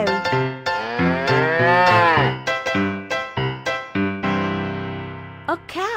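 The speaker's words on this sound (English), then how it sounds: "Cow." A cow moos several times in a row, loud and close, each call a drawn-out harmonic low with pitch swoops, separated by short breaks and ending in a long sustained call.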